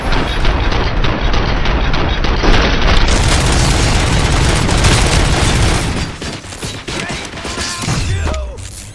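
Heavy gunfire and explosive booms in the RoboCop: Rogue City game, dense loud bursts of shots rolling continuously before thinning into scattered blasts and mechanical clatter near the end.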